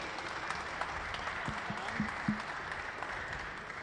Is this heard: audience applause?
yes